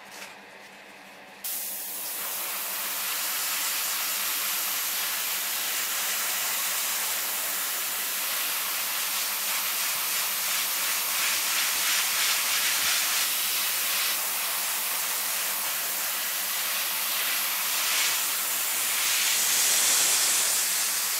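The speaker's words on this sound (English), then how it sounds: "Alright, so I got it already in my airbrush" Airbrush spraying lacquer-thinned paint onto a Hasegawa SR-71 Blackbird model kit at low air pressure, a steady close hiss that starts after a short quieter moment and runs continuously.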